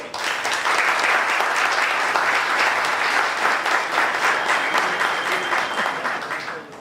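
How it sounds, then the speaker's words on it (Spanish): Audience applause for the committee seated at the head table during a history conference, a steady sustained clapping from a crowd that holds evenly for several seconds before tapering slightly at the end. "sugiero su gentileza de un aplauso"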